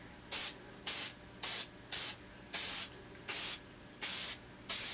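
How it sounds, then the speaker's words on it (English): Light coats of aerosol spray paint hiss onto a patent leather sneaker in eight short, evenly spaced bursts, each about half a second long, close and clear with quiet pauses between. "And you want to make sure to spray all the way off the shoe."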